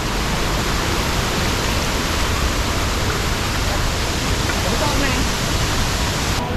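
The Vazvanthol waterfall roars close and loud in a constant, dense rush of falling water, and a voice speaks faintly under the noise.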